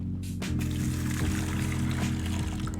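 Water being poured off soaked millet in a home kitchen, a sloshing pour with splashes and trickles running continuously at close range.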